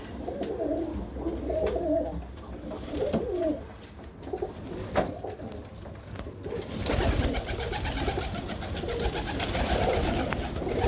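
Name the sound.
Birmingham Roller pigeons cooing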